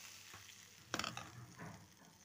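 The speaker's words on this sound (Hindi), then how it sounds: "अब हम इसमें जो है ये तड़का लगा देंगे।" A sudden sharp sizzle as spices hit hot oil, tempering for kadhi pakora, crackling briefly and then fading to a quiet hiss against soft kitchen background noise.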